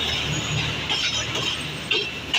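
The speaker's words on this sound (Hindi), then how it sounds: "ट्रेन सामने आ रही है" A Pakistan Railway train arrives at Khanpur railway station, heard as a continuous rumble of rolling wagons with faint wheel squeal and metallic clinks, steady and fairly close, with no talking.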